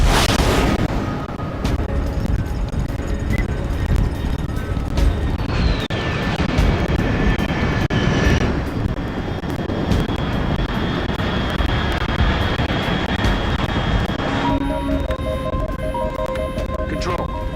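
In the Metal Gear Solid Snake Eater video game, an aircraft engine roars loudly and continuously overhead, with game music and a voice speaking over it near the end.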